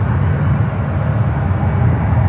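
An American Airlines Boeing 737 MAX 8 taxis at San Francisco International Airport, its jet engines giving a loud, steady, low rumbling hum that holds unbroken and close by.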